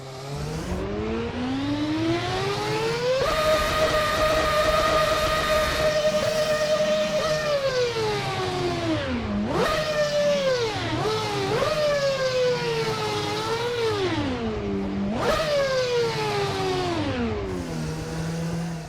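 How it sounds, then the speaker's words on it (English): A loud 2007 McLaren Formula 1 car engine, not quite a V10, revs continuously, its high whine climbing and dropping through several sharp throttle blips and gear-like shifts, with no voices. "let's rev it up and let's see how it sounds"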